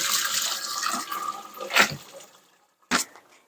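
Homemade chicken stock poured through a strainer, a loud rushing splash that fades to trickles, then a short second pour-off splash and a few drips.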